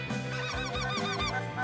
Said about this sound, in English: Oh, we got geese coming behind us